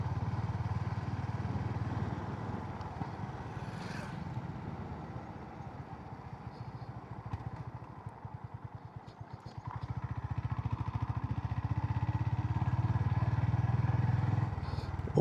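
Honda CB350RS motorcycle under way, its engine a steady low thrum mixed with wind rumble, dipping briefly midway then rising again, heard close from the rider's position.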